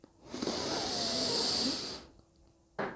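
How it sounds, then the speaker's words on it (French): A person inhales slowly and steadily through the nose during a breathing exercise, a soft hissing draw lasting over a second, followed by a pause and a quick sharp breath at the end. "On inspire par le nez en pliant le bras gauche."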